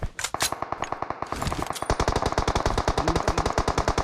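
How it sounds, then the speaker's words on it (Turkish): Rapid automatic gunfire from the PUBG Mobile battle royale game, a dense run of loud, evenly spaced shots after a few scattered bursts at the start, filling the whole stretch with sharp, close reports. "Bana sıkıyor adam."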